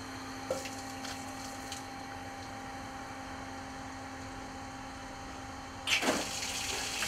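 Two solar-powered 220V electric water pump motors run with a steady droning hum and even background whir, joined by a brief splash or clatter near the end.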